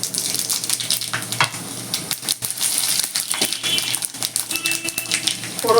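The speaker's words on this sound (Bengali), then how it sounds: "তেলের মধ্যে দুটো তেজপাতা, দুটো শুকনো লঙ্কা আর 1 চামচ" Bay leaves, dried chillies and whole spices are being tempered in hot oil in a kadai, giving close, crackling sizzles with sharp pops and spatters throughout.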